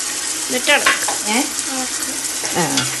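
Tomato and ginger-onion paste frying for a Kerala-style chicken biryani, a bright, dense sizzle with a spoon stirring and scraping the pan, close and loud, with a voice briefly heard over it.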